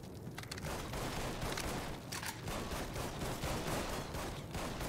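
Gunfire rattles in the video game Mafia III, with dense bursts and dull booms under a continuous noisy battle din at moderate distance.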